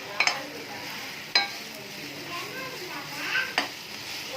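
Broccoli tossed in a hot pan with oyster sauce gives a soft sizzle under a few sharp scrapes and clinks of the spatula. The stirring comes in brief, spaced bursts.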